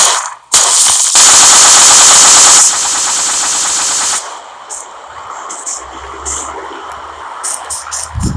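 Rapid automatic gunfire from hip fire in the mobile shooter PUBG Mobile, a loud sustained burst near the start that cuts off, followed by quieter scattered game sounds and distant shots.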